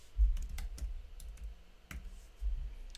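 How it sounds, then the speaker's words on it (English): Fingers type on a computer keyboard while entering text into a React form input field, producing several quick irregular clicks and taps, fairly close and quiet, with no talking. "So now what we'll see is if we type something,"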